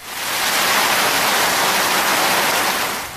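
Rushing floodwater during heavy rain in flooded Lianga streets, a loud, dense, hissing roar that swells in and holds steady, with no voices over it.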